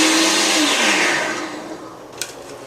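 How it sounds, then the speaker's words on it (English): A food processor grinding two cups of fresh parsley, a loud close whirring roar that winds down and fades out, ending with a brief click. "We're going to take 2 cups of fresh parsley. And again, we're going to grind it up."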